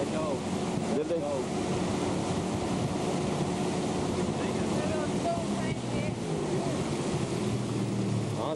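A boat engine runs steadily on open Alaskan water, a continuous rumbling drone mixed with wind buffeting and sloshing surf throughout, with brief faint talk near the start.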